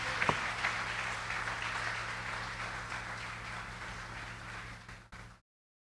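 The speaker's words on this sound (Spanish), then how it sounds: "al cual yo te pido un aplauso" A church congregation applauding, a dense sustained clapping that holds steady for about five seconds, then fades and stops abruptly into silence.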